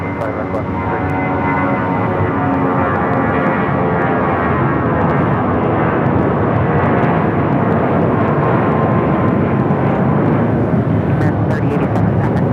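An airliner lines up and departs from Phoenix Sky Harbor, its engines a steady, loud broadband roar that holds for the whole stretch, with radio chatter and a voice talking over it.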